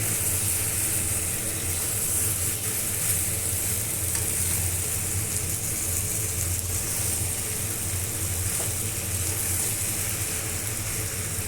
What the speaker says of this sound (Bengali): তারপরে আরও কিছুক্ষণ কষালাম ভালোভাবে